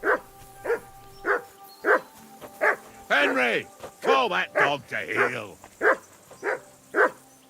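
A dog in Kingdom Come: Deliverance II barks in a steady series of short, regular woofs, close and clear, while someone speaks over the middle stretch.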